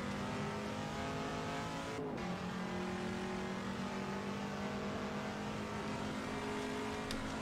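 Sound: Chinook Mk2 Can-Am race car driving, from a video game

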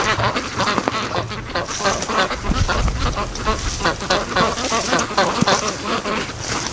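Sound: ducks quacking

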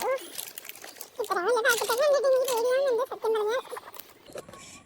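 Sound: crinkling of packaging while unboxing lipstick

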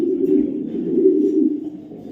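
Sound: racing pigeon cooing

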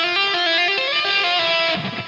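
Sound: electric guitar legato tapping phrase

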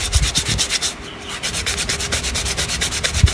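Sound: sandpaper sanding lemon tree wood slingshot

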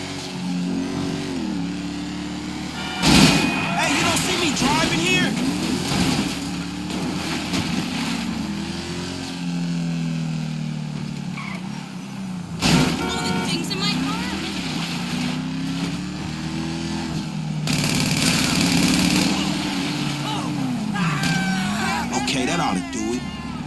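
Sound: car driving in video game Grand Theft Auto 5

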